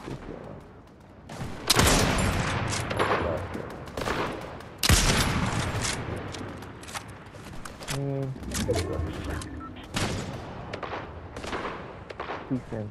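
Weapon fire in the video game Fortnite: loud bursts of rapid gunshots and booming blasts come in several volleys, with a player talking in between.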